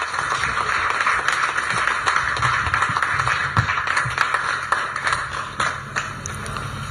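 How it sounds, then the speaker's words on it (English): Audience at a national exam results event clapping for the Minister of Education and Sports, a dense sustained patter of many hands with sharper individual claps throughout, loud and close, holding steady for about seven seconds. "Can I ask all of us to clap for our dear minister before I invite her?"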